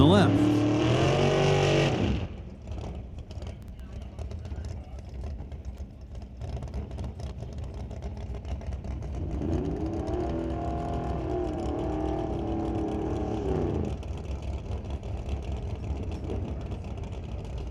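A drag racing dragster engine at a qualifying event roars loudly at first, then cuts off. A commentator talks over the fainter engine noise and crowd background that follows.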